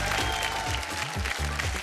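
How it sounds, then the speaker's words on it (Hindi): A television studio audience claps loudly and steadily throughout a short burst of applause, with a voice faintly audible underneath. "रिपू हांडा जी के लिए जोरदार तालियां।"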